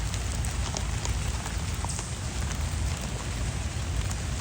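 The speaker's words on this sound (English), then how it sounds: "It's raining, but Sally's got her light back." Steady rain falling during a hurricane, a dense, even hiss of drops on surfaces with scattered nearby patters, continuous and moderately loud with no voices.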